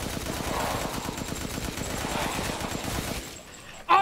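Rapid, regular automatic gunfire from the video game Resident Evil Village rattles at a steady pace for about three seconds, then stops. A short, sharp sound follows at the very end.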